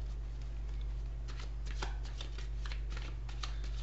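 Cards shuffled briskly for a quick tarot-style reading, a run of soft riffling flicks and snaps over a steady low hum, close and alone with no voices.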